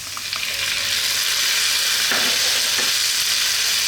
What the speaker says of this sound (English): Just going to stir this in for like 2 minutes.